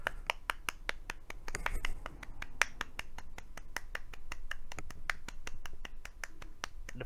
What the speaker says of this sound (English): I'm just clapping for no apparent reason now.